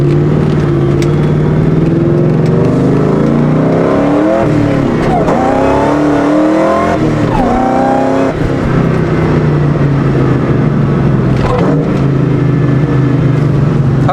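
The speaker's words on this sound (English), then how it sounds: "this is just for audio purposes, so you guys can hear the supercharger" A supercharged Ford Mustang GT V8 is revved hard, a loud, continuous engine roar with rising and falling pitch sweeps as the throttle is blipped repeatedly, close and dominating throughout.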